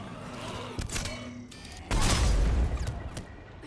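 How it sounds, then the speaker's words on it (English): A heavy sniper rifle shot fired point blank at an enemy's head in a video game, with a booming low-end report following a few lighter impacts and game noise. "point blank sniper shot to the head is pretty effective"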